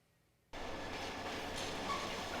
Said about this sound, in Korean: 화물 차량이 정차된 철로에 입환용 기관차 한 대가 들어옵니다.